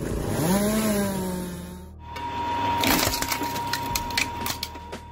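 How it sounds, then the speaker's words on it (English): A homemade automatic firewood processing machine pulls long logs into position, then cuts and splits them, giving a tonal mechanical whine followed by loud cracking, splintering wood and bursts of sawing. "this machine can pull entire long logs into position for cutting and splitting"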